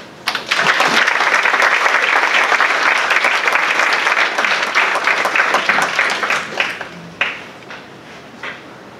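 Audience applause welcoming Ambassador Roland Van Remoortele at a forum at AIM, a dense, steady round of clapping from a crowd that fills most of the clip before thinning into scattered claps near the end.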